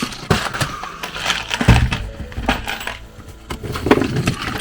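Stainless steel bolts and screws clatter as spares are handled aboard a 54-foot Jeanneau sailboat, giving a run of irregular, close metallic clinks and light rattles with short gaps between.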